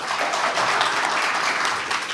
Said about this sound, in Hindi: तो उसके लिए एक बार सर के लिए जोरदार ताली बजाता हूँ।